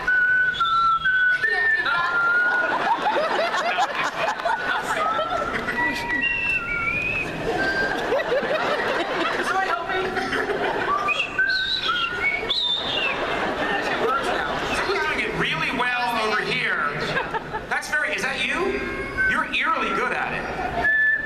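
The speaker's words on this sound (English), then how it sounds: "Can you do the Mockingjay whistle all together," A convention crowd at the Comic-Con 2015 Hunger Games: Mockingjay Part 2 panel whistles the Mockingjay tune together, many overlapping whistled notes rising and falling amid crowd chatter and murmuring.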